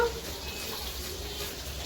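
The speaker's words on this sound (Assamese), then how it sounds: "মাছ ভাজি আছো" Fish fry in a pan with a soft, steady sizzle and faint stirring or spattering, heard at low level and unbroken throughout, with no one talking.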